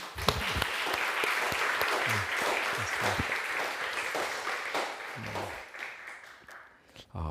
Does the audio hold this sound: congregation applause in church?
yes